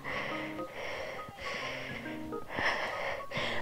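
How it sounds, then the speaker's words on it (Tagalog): A person pants heavily, out of breath on a hike, giving a run of rough, wheezy breaths in a steady rhythm, close and fairly loud. "Nakailang hakbang pa lang ako pero ako yung hinihingal na."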